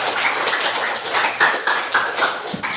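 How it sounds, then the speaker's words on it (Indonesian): Classroom students clap for classmates who answered a question, a brisk, loud burst of close-up applause with sharp individual claps running through the whole short stretch. "tepuk tangan untuk yang sudah jawab"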